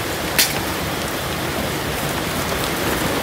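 Heavy rain falls at night, a dense, constant hiss of drops on surfaces, loud and unbroken, with one brief sharper splash near the start and no voices.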